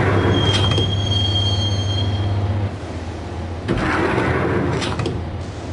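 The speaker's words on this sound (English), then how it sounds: "the train doors had already shut behind me, and I was in for the ride" A subway train in the Max Payne video game rumbles along the rails with a loud low drone and a high wheel squeal, then a heavy clunk and rattling as it runs on.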